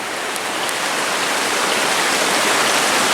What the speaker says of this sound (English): Oh, a waterfall of its own.